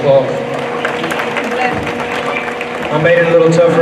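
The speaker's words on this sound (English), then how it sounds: "Let's give these four senior showmen a big round of applause." An audience at a junior livestock show in Bailey County applauds four senior showmen, a steady, dense wash of clapping that swells louder near the end, with a voice talking over it.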